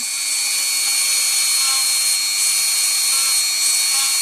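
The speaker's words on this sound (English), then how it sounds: "Rosella, remember that the noise of the drill covers your voice" A power drill boring into pumice gives a steady, high-pitched whine that runs unbroken throughout, loud and close, with a constant droning tone and no pauses.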